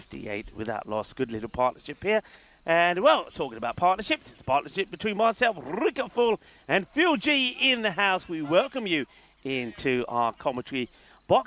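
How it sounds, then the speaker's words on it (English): Crickets chirp steadily outdoors at a European Cricket T10 match in Romania, a constant high trill under near, continuous commentary voices. "You can hear all sorts of wildlife here from the crickets"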